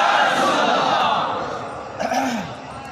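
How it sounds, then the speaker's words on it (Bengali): A large crowd at an Islamic sermon gathering roars a loud collective takbir chant, voices swelling together then trailing off, with a single voice rising briefly near the end. "জোরে একটা তাকবীর হবে, নারায়ে তাকবীর, নারায়ে রিসালাত"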